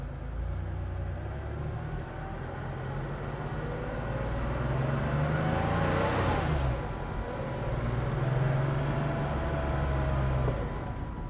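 A hotrod Porsche 912 driving on a test run, its engine a steady, close drone that swells twice as it accelerates, heard alone with no talk.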